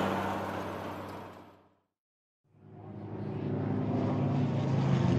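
A bomber aircraft drones loudly overhead with a dense, roaring engine sound that fades to near silence for a moment and then swells back to full strength.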